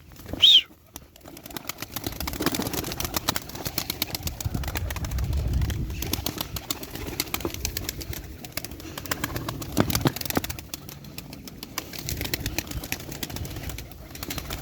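Tumbler pigeons in flight near a loft, with a brief sharp call at the start, then steady wing flapping and soft cooing under ongoing outdoor background noise.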